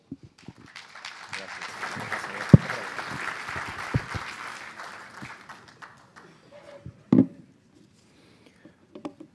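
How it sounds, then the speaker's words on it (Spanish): Audience at an agricultural conference on beef grading clapping for a speaker, a brief burst that swells and fades within a few seconds, followed by near silence and scattered small noises. "Un aplauso."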